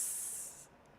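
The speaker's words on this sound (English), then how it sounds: "give me that spray" An aerosol spray can releases a steady hissing burst lasting about half a second, close and fairly quiet, then cuts off, leaving faint room noise.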